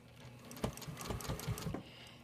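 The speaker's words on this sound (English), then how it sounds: "So I'm just going to stitch around that shape first." Close, short bursts of a sewing machine stitching fabric around a shape for a quilt, with uneven pulses of stitches over about two seconds and no voices.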